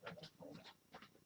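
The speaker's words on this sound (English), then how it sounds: "Lily and Daisy are outside, and I can hear them barking in the house." Barking from dogs outside a house, a few short bursts of barks and pants at moderate distance, faint and muffled through walls.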